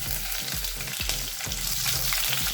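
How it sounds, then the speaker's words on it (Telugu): Green chillies crackle and sizzle in hot oil in a pan, a steady close hiss broken by a few rhythmic stirring scrapes, with no voices over it. "ఆయిల్ వేడెక్కిన తర్వాత ఇందులోకి మనం ముందుగా పచ్చిమిర్చి వేసుకున్నాము."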